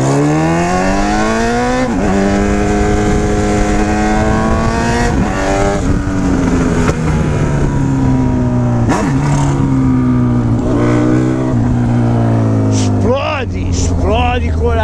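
Turbocharged Volkswagen Golf sliding its rear under braking, a loud continuous engine drone with shifting revs and repeated dips as it brakes, with voices faintly over it.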